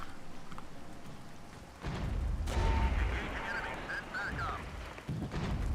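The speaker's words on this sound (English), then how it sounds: "They're using artillery." Artillery fire in the Regiments war game with T-72 tanks nearby, deep booming blasts and rumbling impacts rolling in at intervals, mid-distance and fairly loud over a continuous battlefield din.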